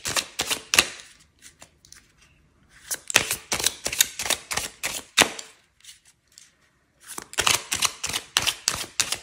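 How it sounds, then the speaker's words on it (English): Playing cards being handled for a tarot-style card reading, with rapid bursts of crisp snapping and riffling shuffles close up, broken by short quiet pauses. "I've got the playing cards."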